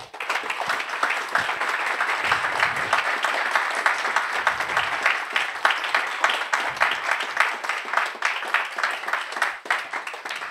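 An audience at a climate talk event in Switzerland claps warmly for a speaker, a dense, sustained wash of many hands that keeps steady for about ten seconds before it begins to thin out toward the end.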